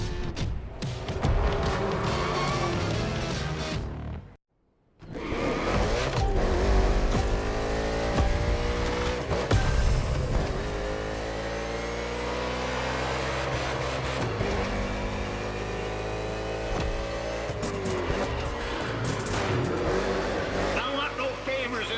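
NASCAR race cars in the video game The Crew Motorfest, with engines revving and roaring in sweeping pitch changes, cutting out briefly before surging back, while a voice talks over the engine noise.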